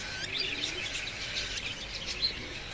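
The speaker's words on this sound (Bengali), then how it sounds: "এই যে টিয়া পাখিটা দেখুন" Quiet, high-pitched chirps and tweets from a parakeet in a bird shop repeat throughout against a steady hiss of background noise, no talking.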